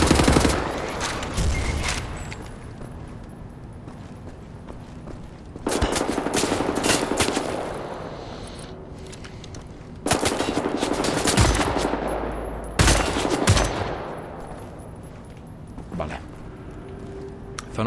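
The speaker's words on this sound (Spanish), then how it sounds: "Me están disparando desde abajo." Bursts of automatic gunfire fired from below in the shooter Wolfenstein: The New Order, several loud rattling volleys separated by quieter gaps over a steady game backdrop.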